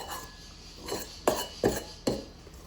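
Sponge cake batter being folded with a utensil in a mixing bowl, giving three or four soft scraping knocks against the bowl at an unhurried pace, close and fairly quiet, with no talking.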